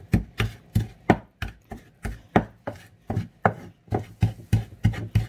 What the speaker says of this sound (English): I'll just grind the pepper. But I don't want to grind it too much